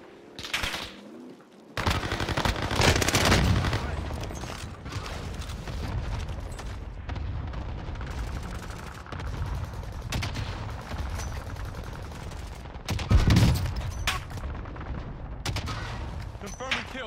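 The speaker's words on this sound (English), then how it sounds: "We're taking fire." Gunfire from Call of Duty: Modern Warfare: dense, loud bursts and rattling volleys keep going almost without a break, with sharper spikes near the start and again late on, mixed with other battle noise and brief in-game voices.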